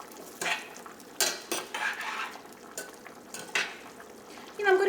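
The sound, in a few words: stirring yam and raw banana curry (erissery) in a pot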